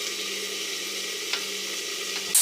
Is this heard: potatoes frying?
yes